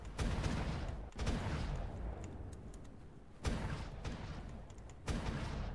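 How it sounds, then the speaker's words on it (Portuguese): Winged dragon bombardment in the video game ARK: a rumbling barrage of booming blasts, with sharp impacts near the start, around midway and again near the end, each followed by a rolling roar that fades, all fairly faint. "Bombardeio do dragão alado."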